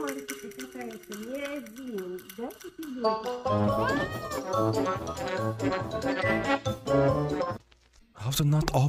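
A kitten meows in a drawn-out, wavering cry, then loud music or busy sound takes over before a brief pause and a return.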